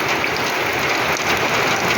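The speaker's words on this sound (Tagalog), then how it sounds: "Umuulan na rin ang loob ng bahay guys." Steady rain pattering loudly and continuously, with water leaking through a roof into the inside of a house.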